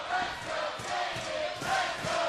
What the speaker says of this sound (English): Listen to the crowd here in the DeBurns Arena